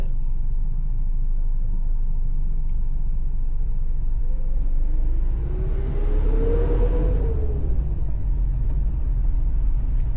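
Road traffic rumbles continuously on the Pamban Bridge over the sea to Rameswaram, as one vehicle approaches, passes close with a rising, then falling engine note, and fades away.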